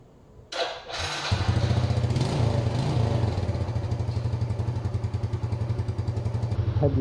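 A motorcycle engine fires up after the ignition is switched on, then settles into a close, loud, steady idle with a rapid regular chugging pulse that continues without talk.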